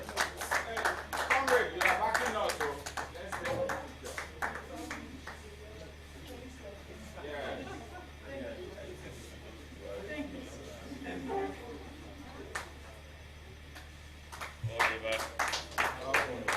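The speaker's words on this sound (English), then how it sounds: "Another round of applause for her." Clapping breaks out at a curriculum development workshop in bursts at the start and again at the end, with voices talking in between and over the handclaps.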